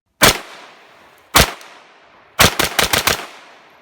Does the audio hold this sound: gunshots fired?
yes